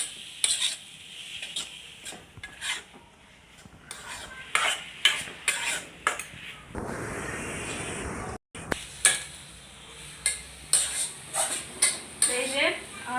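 Leafy greens stir-fried in a pan: sharp clanks and scrapes of a utensil against the pan, a sustained burst of hissing sizzle midway, then more intermittent stirring knocks, with a voice speaking now and then.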